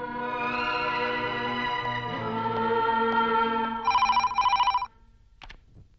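An old-style telephone bell rings in bursts near the end of a film scene, sharp and loud after a stretch of dramatic music, then stops.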